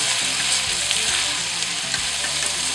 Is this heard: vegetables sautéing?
yes